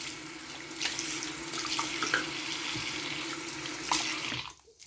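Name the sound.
hot water running from a kitchen tap into the sink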